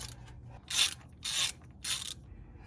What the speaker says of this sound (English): Ended up reaching over to a 13 millimeter socket because the box wrenches isn't gonna work.